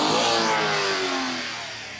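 A mini van engine runs close by with a rising then easing rev, its tone sweeping upward and gradually fading over two seconds with no talk.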